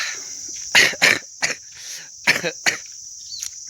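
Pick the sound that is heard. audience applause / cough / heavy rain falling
cough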